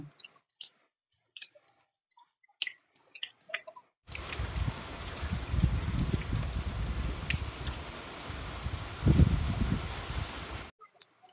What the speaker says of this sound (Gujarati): અત્યારે વરસાદ ચાલુ છે અમારે અને પવન પણ છે